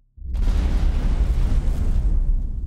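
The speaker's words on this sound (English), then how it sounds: "the heavy dumbfire moves slower but hits harder" A heavy dumbfire missile explosion in the space game X4 Foundations, a single loud boom bursting in after a brief silence and then rolling on as a dense, rumbling roar.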